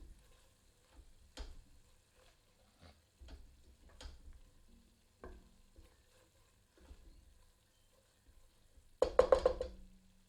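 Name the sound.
stirring spices with a ladle in a pan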